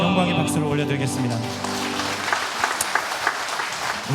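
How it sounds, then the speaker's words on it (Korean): A church congregation claps together in a long, steady wash of applause. At the start, a voice or music rings over the clapping. "하나님께 영광의 박수를 올려드리겠습니다."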